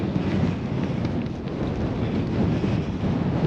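Steady, strong wind roars across an open mountain in the Cairngorms on a sunny day. The blustery rush stays loud and constant throughout, with no voices.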